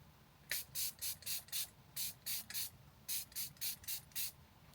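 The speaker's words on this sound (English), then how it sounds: "This is a Fenty You Mist Makeup Extending Setting Spray." Fenty You Mist Makeup Extending Setting Spray pumped in a quick series of about a dozen short, crisp mist bursts in three rhythmic groups, close and clear against a quiet room.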